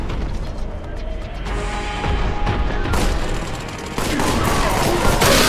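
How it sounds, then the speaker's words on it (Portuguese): Gunfire from cultists in the Warhammer 40k Boltgun video game, dense overlapping shots and booming impacts in a continuous rattling barrage that grows louder and harsher toward the end. "Tem uns cultistas atirando na gente ali."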